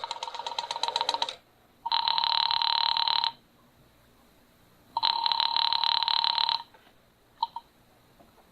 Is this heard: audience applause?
no